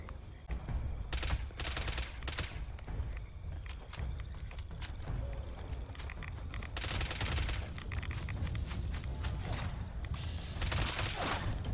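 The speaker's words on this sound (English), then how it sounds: "Now there's just super mutants firing missile launchers" Super mutants firing missile launchers in the video game Fallout 76, a dense, continuous barrage of loud blasts and gunfire with repeated sharp bursts throughout, no voices.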